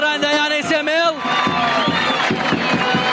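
Ranya club supporters cheer at a football match against Semel, a loud continuous crowd roar with voices and whoops and a steady pulse of rhythmic beats or chanting.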